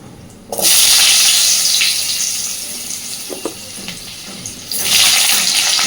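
Cut, washed potatoes hit hot oil already seasoned with whole cumin seeds for an eel fish kalia curry, a sudden loud sizzle that holds steady, dips a little, then swells again near the end.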